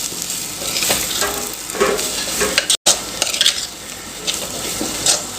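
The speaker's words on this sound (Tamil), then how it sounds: "இப்போ இதை நல்லா மிக்ஸ் பண்ணி கொடுத்துக்கலாம்." Dry salted fish fry being stirred with a handful of grated coconut in a pan, a steady scraping and stirring with soft sizzle and occasional utensil clinks, close and continuous with no talk.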